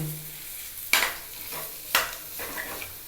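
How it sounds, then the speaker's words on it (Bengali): An egg mixture for roll bread being stirred by hand in a bowl, with three sharp scraping strokes about a second apart over a low background hiss, and no talk. "এবার বাকিটা সব একসাথে মিশিয়ে নেব এভাবে দেখো মিশিয়ে নিচ্ছি"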